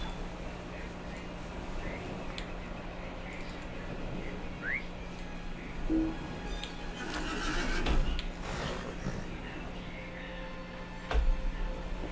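A horse whinnies briefly in the video game Lord of the Rings Online, amid a steady game-like ambient hum, with faint whistles and bird chirps scattered through the background.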